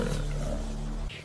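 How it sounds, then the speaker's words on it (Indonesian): A tiger in a film lets out one loud, low, sustained roar that fills about a second, then cuts off abruptly, with no talking. "Namun tiba-tiba seekor macan muncul."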